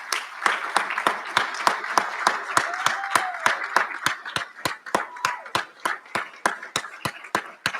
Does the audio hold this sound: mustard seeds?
no